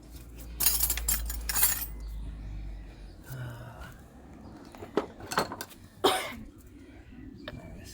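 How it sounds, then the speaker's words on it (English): Someone knocks on the rim of a bearing to drive it out, producing a few sharp metallic taps at irregular intervals amid quiet workshop background and a brief cough-like noise. "I'm just hitting the rim of the bearing to try and see if it moves"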